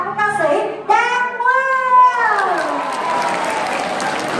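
At a Vietnamese community Tet fair near Washington, D.C., a brief voice rings out over the PA before an audience breaks into sustained applause for singer Giang Quang, a broad clapping wash that fills the rest of the moment.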